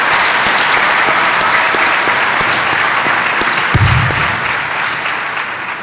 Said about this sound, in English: Let's offer another round of applause for all of these outstanding graduates.